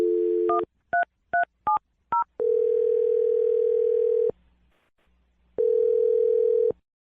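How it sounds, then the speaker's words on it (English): Several short telephone keypad tones beep in quick succession, followed by a steady dial tone that stops, pauses, then sounds again briefly. "I'm dialing the phone number now."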